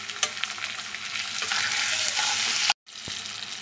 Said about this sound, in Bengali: এগুলোকে ভালো করে একসঙ্গে দিয়ে বা কষিয়ে নেব।